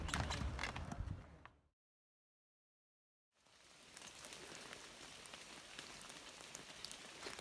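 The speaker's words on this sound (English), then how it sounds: "It's raining out." Steady rain falls around an Appalachian Trail shelter in the Georgia mountains, a dense patter of drops on surfaces; after a brief gap of total silence the downpour resumes, even and close throughout.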